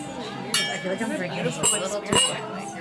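Glasses clink together in a toast at a fine-dining restaurant, with several bright chimes ringing out over steady chatter and voices at the table.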